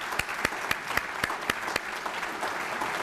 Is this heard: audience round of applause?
yes